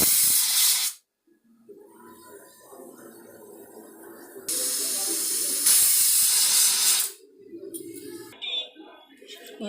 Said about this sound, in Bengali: এখন আমি ডুমুরটা এই প্রেসারে একটু সিটি মেরে দেবো।